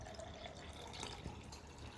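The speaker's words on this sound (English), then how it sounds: "I'm just gonna add in my 8 ounces of water." Eight ounces of water pours steadily into a Meal Kit Supply civilian MRE beef ravioli in meat sauce pouch, a continuous close trickling and splashing lasting the whole moment.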